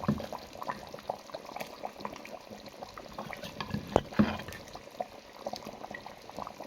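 A pot of fish and smoked chicken sauce simmers with soft bubbling and faint liquid pops, quiet and steady throughout, with a few slightly louder clinks partway.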